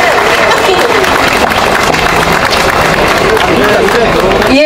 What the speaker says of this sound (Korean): 여러분 뜨거운 박수로 맞이해 주십시오.